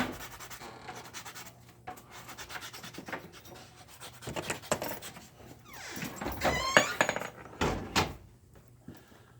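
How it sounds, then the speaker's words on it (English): A quarter being shaped into a coin ring with a sanding block and sandpaper, producing soft, close scratchy rubbing strokes in an uneven rhythm, with a few light metallic clinks near the end. "take a sanding block, sandpaper, get a lot of the heavier stuff off"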